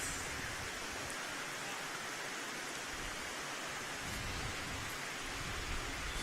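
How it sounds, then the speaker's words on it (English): A heavy rain shower drums on a canopy above an outdoor bowling green, making a dense, steady hiss that lasts throughout with no one speaking. "another shower of rain coming over."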